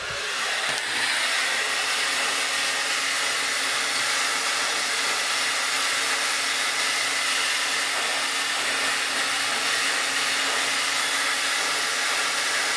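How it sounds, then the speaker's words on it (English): A handheld hair dryer blows steadily as freshly cut straight bangs are dried at home, a loud, continuous airy whoosh with no break or talk throughout. "And then blow dry it."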